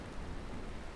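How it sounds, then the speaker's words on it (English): Heavy rain pours in Kyrenia, a seaside city in Northern Cyprus, as a steady, soft, even hiss with no breaks. "it rains quite strongly"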